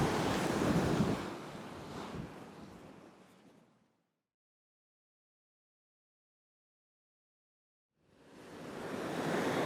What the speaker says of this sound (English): I'm out on a rock outcropping now, out in the ocean.